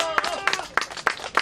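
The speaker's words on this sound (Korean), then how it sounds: "박정희 대통령에 대한 힘찬 박수 부탁드립니다." Audience at a May 16 anniversary ceremony clapping, a few separated sharp claps in a brief, thin burst of applause heard fairly close.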